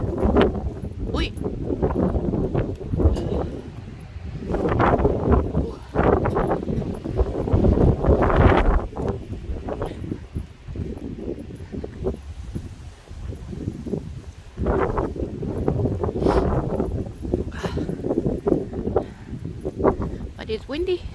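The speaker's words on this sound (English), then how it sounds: "But it's windy" Wind gusting through a small town on a cold snowy night, rising and falling in rough, rumbling waves against the microphone, with faint talk at times.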